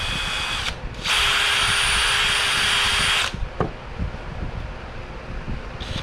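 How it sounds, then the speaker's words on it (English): Power drill bores into a tennis racket frame at the base, a loud steady whine running about two seconds after a brief start, then stopping, followed by faint handling clicks. "All I do is stick the drill right here at the base."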